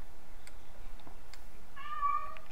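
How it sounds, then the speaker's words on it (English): In a Minecraft game session, a cat meows briefly, a single short tonal mew near the end over a faint quiet background with light clicks. "This is a cat."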